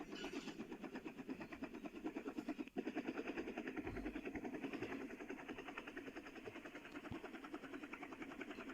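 A video game helicopter's rotor chop pulses rapidly and steadily throughout, a loud mechanical whir with one sharp click partway through and no voices.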